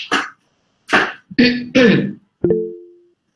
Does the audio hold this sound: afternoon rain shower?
no